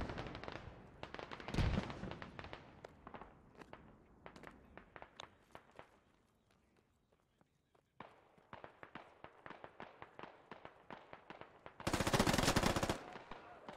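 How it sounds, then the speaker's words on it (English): Machine gun bursts in a multiplayer shooter video game, rapid repeated cracks in uneven bursts, some near and loud, others more distant, with footsteps and a quieter stretch between volleys. "there's a machine gun to the southwest"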